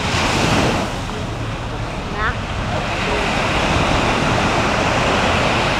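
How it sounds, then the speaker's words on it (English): Ocean waves break on Waikiki Beach in a loud, continuous roar of surf, with heavy wind buffeting the microphone throughout. "Oh, here comes the wave."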